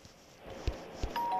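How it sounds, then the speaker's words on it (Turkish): A doorbell rings in the horror video game The Baby In Yellow, a few short electronic tones ending in a brief bright chime against a quiet room. "Zili çaldım."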